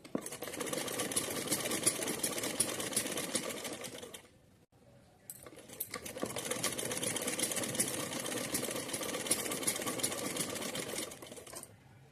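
A sewing machine stitching lace onto cotton fabric, a fast continuous mechanical whir and needle rattle running for several seconds, briefly stopping, then resuming at the same steady pace.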